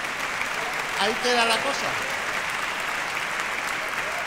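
Audience applause at a Christmas charity concert for Misiones Salesianas, a steady wash of clapping filling the hall while a presenter talks briefly over it.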